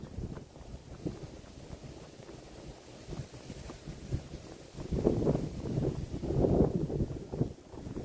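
Wind gusts outdoors on a walk in Columbus, a steady low blustery rumble buffeting the microphone that swells louder and rougher in the second half.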